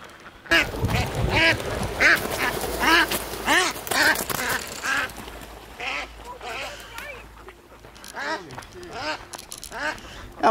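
Ducks at a rural Chinese duck farm quack loudly and continuously, a crowded overlapping chorus of calls close by, with people talking underneath.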